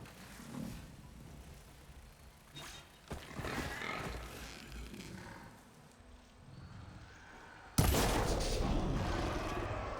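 A Fire Bristleback machine in Horizon Forbidden West stomps and grunts through a fight, giving a steady churn of thuds and rough bursts, then a sudden loud crash near the end.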